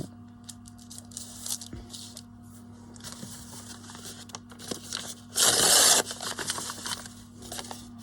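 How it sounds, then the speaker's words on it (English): Paper is ripped off a page in a long, loud tearing burst partway through, amid smaller scraping and handling noises at a work table. "And then I'll rip the paper off, and hopefully it leaves a bit of the paper behind."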